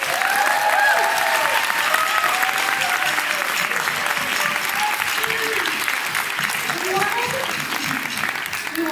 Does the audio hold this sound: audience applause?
yes